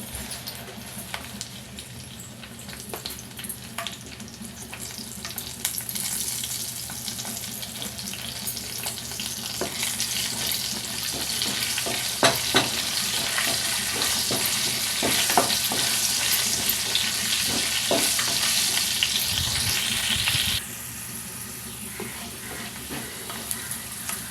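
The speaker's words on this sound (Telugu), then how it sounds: "కొంచెం ఆవాలు, కొంచెం జీలకర్ర, ఇంగువ వేసి వేయించుకుందాం." Mustard seeds, cumin, dried red chilli pieces and asafoetida fry in hot oil for a tempering, with steady sizzling and crackling and occasional popping and stirring, close up. No voices are heard.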